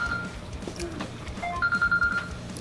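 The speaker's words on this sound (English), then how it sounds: "Andy Poole with a phone call." Telephone ringing during an eating challenge, a short electronic ringtone of repeated quick pulses near the end, faint under surrounding room noise and scattered background sounds.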